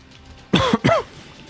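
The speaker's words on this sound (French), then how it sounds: "je tousse" Two quick, rough coughs close to the microphone, one right after the other, against a quiet background.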